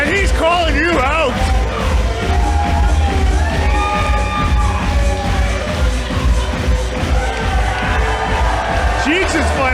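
A wrestling match crowd at a WPW street event cheers and shouts continuously, a dense roar of voices with whoops rising over close commentary talk.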